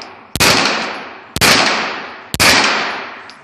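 Three sharp, loud Canik TP9 SFX 9mm pistol shots fired at a target, evenly spaced about a second apart, each with a short ringing decay.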